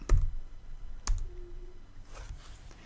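Two sharp computer mouse clicks, one at the start and another about a second later, with a faint hum between them and no talking.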